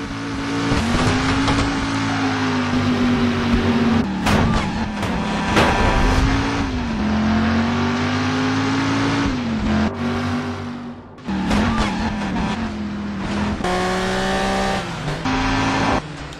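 In-car view during a car chase in the Driver: San Francisco video game, with a sustained loud engine roar whose pitch rises and falls through gear changes, plus brief tire squeals and impacts, and a short dip near the end.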